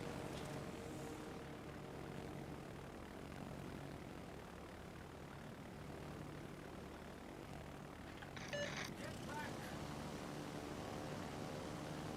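Propeller aircraft engines from planes in World of Warships Legends drone steadily and faintly at a distance, with a brief brighter swell partway through and no speech.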